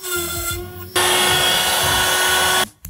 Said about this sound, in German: Ja, Drill ist gemountet, wunderbar. Bring das auf und bohren.